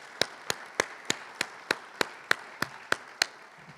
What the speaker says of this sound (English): Can we get a round of applause for Scott?